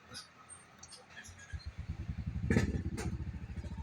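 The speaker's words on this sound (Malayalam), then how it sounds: "ഇത് നമ്മുടെ ജനറേറ്റർ ആണ്" A hospital generator runs close by with a fast, steady mechanical chugging that grows louder and more pronounced, with a few brief clanks on top.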